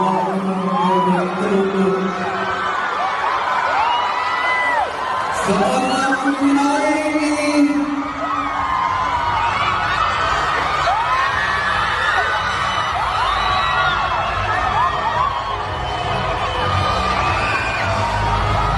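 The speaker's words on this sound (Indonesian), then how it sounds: "para kaum Hawa berteriak meneriakan nama dari pemuda kelahiran Jambi ini" A large crowd of women at a stage event screams, whoops and cheers for a performer, a dense, continuous, loud roar of shrill yells that never lets up.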